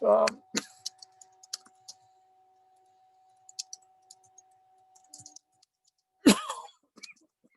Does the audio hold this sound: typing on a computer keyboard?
yes